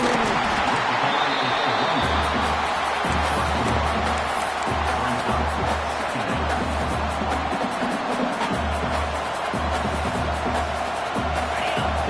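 A large college football stadium crowd in a video game roars steadily in the distance, a constant dense wash of cheering and noise with no clear breaks.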